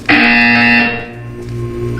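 A loud electronic buzzer in Portal 2's Courtesy Call chapter sounds once for under a second, then fades into a low ambient hum.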